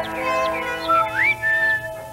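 The Grinch whistles a short melodic tune up close in a cartoon, a few clear sliding notes rising and holding, alone without talk.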